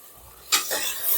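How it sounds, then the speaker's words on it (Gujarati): Finely cut potatoes hit hot oil in a pan with a sudden sizzle that rises sharply and keeps hissing, close and moderately loud, while being cooked for a spiced rice dish. "હવે એને બધાને સારી રીતના તેલમાં પકવવાના"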